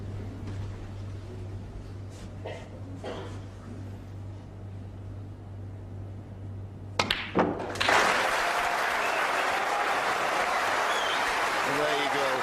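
Snooker crowd breaking into sustained applause after a century break, loud broadband clapping starting abruptly after a quieter stretch of arena hum and brief commentary-like sounds.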